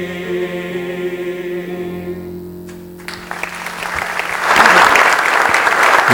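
An audience applauds a singer's rendition of the Póvoa de Varzim anthem at a city day celebration, the clapping swelling from a thin start into loud, dense, sustained applause from a full standing crowd as the music fades.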